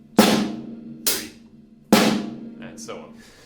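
Drum kit groove with the snare landing on beats 2 and 4: three crisp, decaying hits at a steady pulse, close and loud, followed by a brief murmur of voice at the end.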